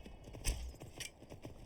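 Horse hooves clip-clop in a steady rhythm in Skyrim, quiet and close, with a few slightly louder thuds.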